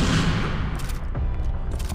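Gunfire in a horror video game: a loud burst of shots at the start, followed by a couple of sharper blasts over a booming, reverberant background.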